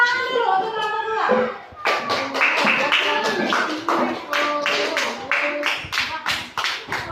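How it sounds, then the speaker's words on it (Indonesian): Children in a classroom clap for a group, starting with a speaking voice and then breaking into a burst of many close, sharp hand claps that grows into a quick, uneven rhythm. "Tepuk tangan dulu untuk kelompok dua."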